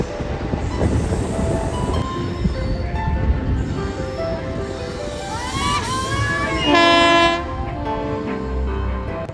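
An Azimganj–Krishnanagar passenger train rolls onto the historic Nashipur rail bridge over the Bhagirathi River, loud wheel rumble joined by squealing wheels and a long horn blast near the end, close and dominant.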